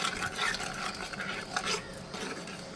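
A spoon stirring a sugary donut mixture in a bowl, giving soft continuous scraping and swishing strokes at a low, close, steady level with slight rhythmic pulses.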